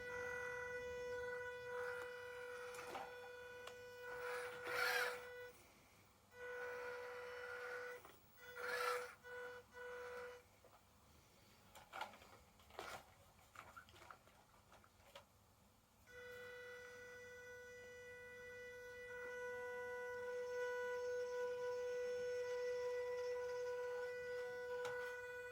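A small MN99s V2 RC truck's electric motor gives off a thin, steady whine that swells and fades in short bursts, then holds a continuous high tone toward the end; fairly quiet and close.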